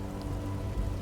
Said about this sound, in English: I blame the rain.